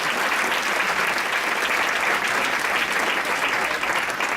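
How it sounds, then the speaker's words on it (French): An audience applauds at a live talk event, a dense, steady wash of clapping that holds for several seconds, close and full, with no speech over it. "on pourrait peut-être les applaudir aussi"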